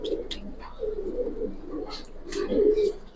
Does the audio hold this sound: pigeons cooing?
yes